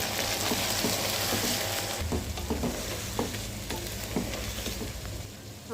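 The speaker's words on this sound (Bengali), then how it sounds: "আমি চিকেনটাকে ভাজতে থাকবো যতক্ষণ পর্যন্ত লাল কালার না আসে।" Chicken pieces fry with browned onions in a pan of hot oil, giving a steady, close sizzle throughout with scattered light clinks and scrapes from stirring.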